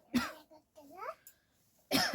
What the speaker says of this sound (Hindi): खांसी का चैलेंज